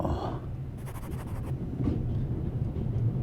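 A train running in The Raven Remastered, a low, steady rumble with a short burst of rapid metallic clicking partway through, fairly faint and continuous.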